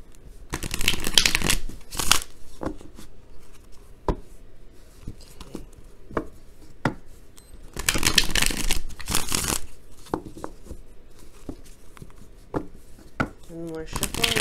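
A deck of tarot cards being shuffled by hand, heard as repeated riffling bursts and sharp taps at irregular intervals, with quieter handling noise between them.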